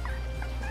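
Chicken character in the video game Ultimate Chicken Horse making a short clucking, gobble-like call over a steady low game hum, loud and close.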